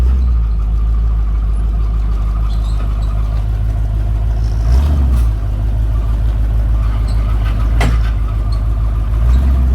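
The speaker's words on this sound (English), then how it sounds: "A very clunky gearbox." An old classic American car runs with a steady low engine rumble throughout, with a couple of brief clunks and knocks from its clunky gearbox as it shifts, heard up close.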